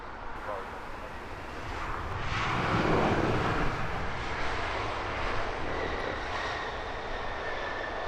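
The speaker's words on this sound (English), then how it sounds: "now on the takeoff roll." An airliner accelerates on its takeoff roll at Heathrow Airport, a broad, steady jet engine roar that swells to a peak midway and then holds. It is heard from a distance, with a voice speaking over it.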